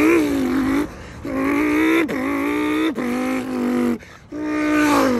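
A man imitates a Lamborghini Huracan launch control with his mouth, a loud buzzing engine-like drone that rises in pitch through several gear-shift steps, each cut by a short break before climbing again.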